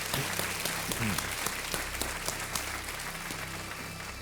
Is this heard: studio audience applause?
yes